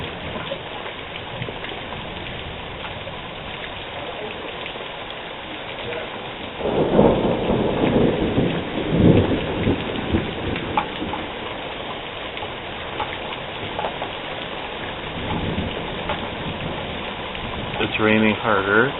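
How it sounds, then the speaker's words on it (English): A heavy thunderstorm on a Tuesday night brings a loud crack and rolling thunder midway over intensifying rain, the downpour hissing steadily throughout, with a brief burst of voice near the end. "It's raining harder."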